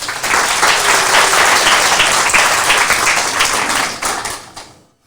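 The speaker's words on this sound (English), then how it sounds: "please give a round of applause for Sainsbury's" An audience at an accessibility meetup applauds a sponsor, Sainsbury's, with dense, steady clapping that lasts several seconds before thinning out and fading to silence.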